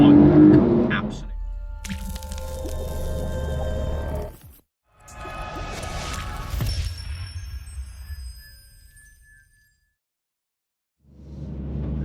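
A Porsche 911 Carrera 4 GTS with four-wheel drive pulls hard out of a junction, its engine note swelling loudly and then fading, with a person talking over it.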